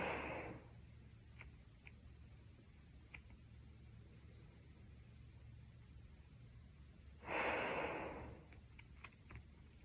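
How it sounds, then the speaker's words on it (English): Deep breaths taken while holding a yoga stretch, two broad airy breaths, one at the start and one near the end, with faint ticks between and no talk. "Take 2 luscious breaths here."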